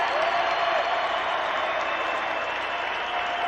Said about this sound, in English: A vocal crowd here.